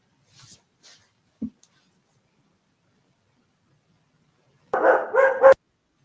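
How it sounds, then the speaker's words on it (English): A dog barks a few times in the background during an online podcast call, short sharp barks, a brief one early and a louder cluster near the end, otherwise quiet. "My dog keeps barking."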